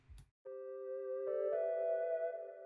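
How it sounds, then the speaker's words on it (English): A soft synthesized flute from the Diva synthesizer plays a short melody of sustained notes, smooth and breathy, stepping up in pitch, alone with no talking. "I picked a flute from Diva. It sounds like this."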